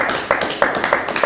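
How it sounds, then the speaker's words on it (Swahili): A church congregation claps in rhythm for Jesus during a sermon, with a short run of sharp, evenly spaced claps in a roomy space. "Pigia Yesu makofi"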